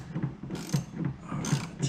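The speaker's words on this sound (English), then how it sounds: "Tighten that filter down." Ratcheting clicks from tightening the clamp on an Airaid cold air intake filter on a 2019 Mustang GT, a close, steady run of mechanical ratchet pulls with no talking.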